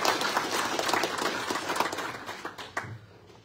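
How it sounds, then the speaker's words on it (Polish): Applause from an audience at an eco-energy festival awards gala, dense clapping that thins out and fades to a few scattered claps by the end, no voices over it. "Gorące brawa jeszcze raz dla niego."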